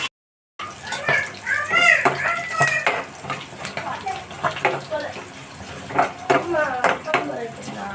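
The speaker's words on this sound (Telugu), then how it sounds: "చేపలు పేలుతున్నాయి ఫ్రెష్ చేపలు కదా" Oil crackles and spits in sharp bursts under a steady sizzle as fresh fish fry, with people talking nearby and occasional clinks of utensils.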